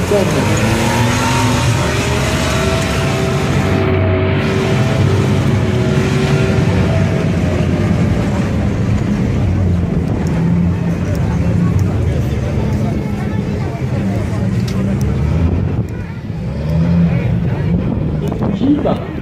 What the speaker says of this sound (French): c'est véritablement le véhicule blindé qui a servi particulièrement pendant la guerre du Vietnam